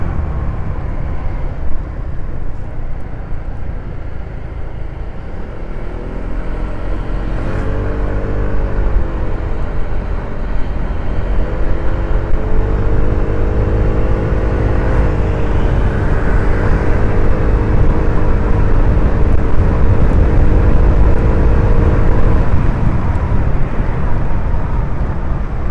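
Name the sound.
ER150P motorcycle engine climbing uphill on a mountain road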